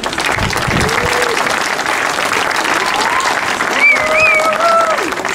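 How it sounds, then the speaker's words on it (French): An outdoor protest crowd against a high-speed rail line applauds the artists, with loud, steady clapping throughout, a few cheers and whistles rising above it near the end. "Pour tous les artistes qui sont venus, je vous remercie de les applaudir encore une fois"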